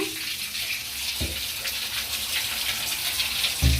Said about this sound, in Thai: กดเปิดน้ำใส่